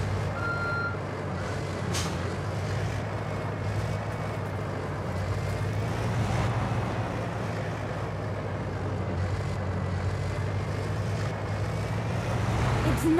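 A truck-like vehicle is driven in the video game Ghost Recon Wildlands, with a steady low engine rumble throughout and a reversing-style beep near the start, with no talk over it.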